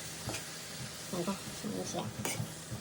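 Tomatoes sizzle and fry in a pan while being stirred, giving a steady low hiss with soft scraping stirs, and someone talks over the cooking in Telugu.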